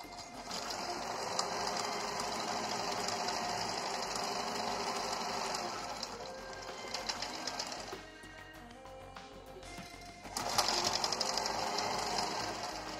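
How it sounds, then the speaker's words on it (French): A sewing machine stitches a straight seam in cloth for a fabric face mask, a steady close mechanical whirr that briefly slows and pauses before starting up again, with no talking. "une couture droite à 5 mm du bord. Je vais faire un aller-retour pour que le fil soit bien enclenché"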